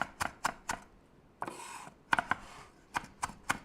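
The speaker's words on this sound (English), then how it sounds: "You want to chop parsley when it's dry." A knife chops dry parsley on a small cutting board in crisp, quick taps, one burst of three strikes and then another of about seven, with a brief scraping sweep between them.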